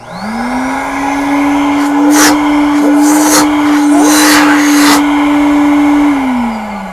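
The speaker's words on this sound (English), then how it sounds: "So this is the vacuum." A professional auto detailing vacuum runs steadily with a strong hum, starting up and winding down near the end, while a few brief bursts of hiss or airflow cut in over it.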